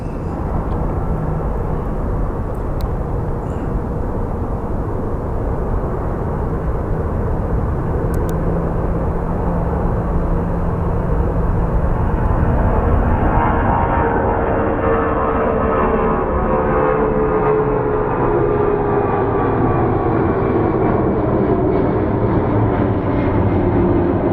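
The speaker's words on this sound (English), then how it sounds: "when I see an airplane that is about to take off" Jet airliner taking off at Phoenix Sky Harbor airport, a loud, continuous roar that builds and shifts pitch as the plane accelerates and climbs away, with no voices over it.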